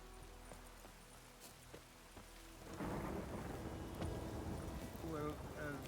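Rain and thunder in the video game The Witcher 3: steady rainfall hisses throughout, and a heavy thunder rumble swells in about halfway and stays loud to the end.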